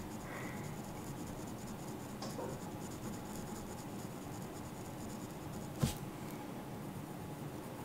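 Ballpoint pen shading on paper while drawing dragon fire, a steady soft continuous scratching close up, with a brief sharper tick near the end.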